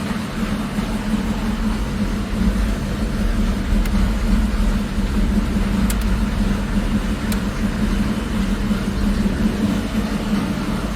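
A GMC truck engine idles steadily with a low, constant hum and mechanical drone, a few faint clicks over it, no talking.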